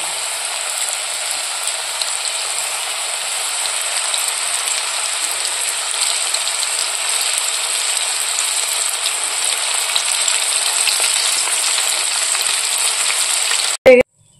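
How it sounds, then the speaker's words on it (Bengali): Chicken fries steadily in a pan, frying for the second time, giving a constant close hiss and crackle like rain that barely changes. A sharp clatter ends it. "এই যে একবার ভাজা হয়ে গেছে, আর একবার দিচ্ছি।"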